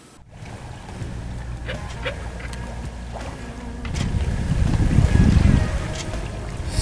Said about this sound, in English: Sailing a little wing on wing.